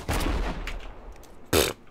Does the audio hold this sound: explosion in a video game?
yes